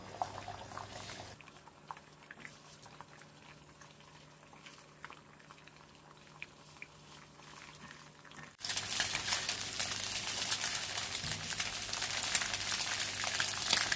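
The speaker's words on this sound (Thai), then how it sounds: "พอน้ำมันร้อนก็ใส่ไข่ลงไปสี่ฟองครับ พอไข่ขาวเริ่มเซตตัวก็ยีไข่แดงให้กระจายกันครับ" Four eggs frying in hot vegetable oil in a wok, a dense crackling sizzle that starts quiet and steady, then jumps to a loud, close, bright spattering hiss for the last several seconds.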